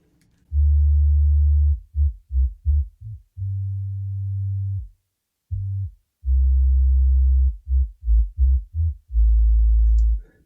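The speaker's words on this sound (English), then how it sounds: "So let's check out the bass before we move on to the actual beat and the drum samples." Synthesized bass line from a Serum preset for a lofi beat: deep, sustained sine-like low notes in a rhythmic pattern of long and short plucked tones with brief gaps, played alone and loud, no voices.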